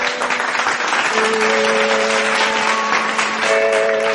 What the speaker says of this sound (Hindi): परवर्ती कंठशिल्पी शैलभामा महापात्र जोरदार करताली सहित स्वागत करवा।